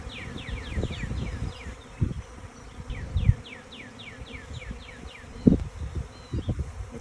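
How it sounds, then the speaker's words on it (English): A swarming honey bee hive fills the air with a continuous buzzing drone of many bees, while individual bees whine past the microphone in quick repeated fly-bys and faint outdoor knocks and rustles sound underneath. "My strongest hive began swarming just at that moment."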